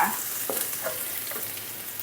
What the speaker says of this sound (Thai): ผัดกระเทียมให้เหลืองหอมเลยค่ะ